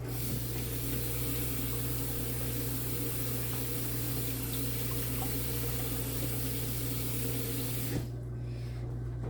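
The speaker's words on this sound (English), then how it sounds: "now we're gonna wash some cilantro" Cilantro rinsed under a running tap, a steady close rush of water that stops abruptly near the end, with no talking.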